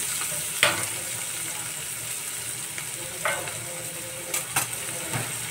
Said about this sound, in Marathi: कढीपत्ता, कांदा आपण छान गुलाबी रंग होईपर्यंत फ्राय करून घेऊया।